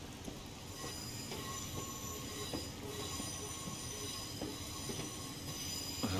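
A Class 411 4-CEP electric multiple unit running between London Waterloo and Woking in Train Simulator Classic, with continuous rail rumble, high wheel squeal and faint periodic clicks over joints, and no voices.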